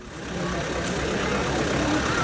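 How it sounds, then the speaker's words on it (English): An off-road tractor working through a boggy mud pit at a tractor festival in Papradno, Slovakia: a continuous loud, rumbling engine drone with no break. "The tractors must try and fight their way through this boggy pit."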